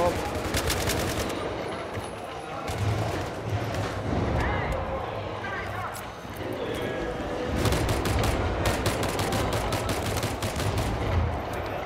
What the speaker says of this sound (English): Double kill with my handgun.